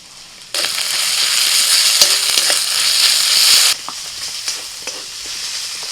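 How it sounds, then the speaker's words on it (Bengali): Onions frying in a pan as ginger-garlic paste goes in for a Calvart-style chicken curry: a loud, steady sizzle bursts in after a quiet start, then drops to a softer crackle with light stirring clicks. "বেশ কিছুক্ষণ পেঁয়াজটা ভেজে নেওয়ার পরে এবার আমি দিয়ে দিচ্ছি আদা রসুন বাটা"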